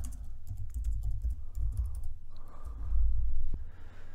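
Keys on a computer keyboard tapped in quick, uneven bursts, close up with soft low thumps and a short pause between runs of typing.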